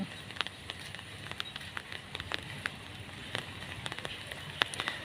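Steady patter of rain falling on a surface, with scattered sharper drops and taps throughout, fairly faint and continuous.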